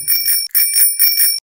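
A bicycle bell rings in three quick bursts of bright metallic trills with brief gaps between, close and clear with nothing else audible.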